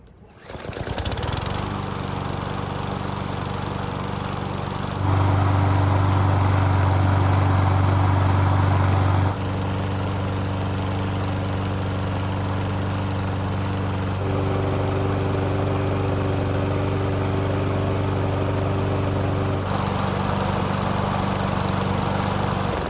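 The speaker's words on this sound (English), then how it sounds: "Now that the mower is back together, we can start it up and make sure we didn't mess something up." A Toro lawn mower engine catches after a brief start and runs steadily for the rest of the clip, a loud, close droning hum whose pitch shifts slightly as the throttle settles.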